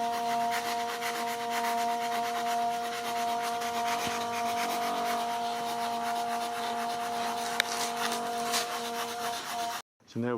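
Steady, continuous abrasive grinding while wood is cut away from the leading edge of an RC PBM Martin Mariner model plane wing, under a constant tonal motor hum that cuts out abruptly near the end.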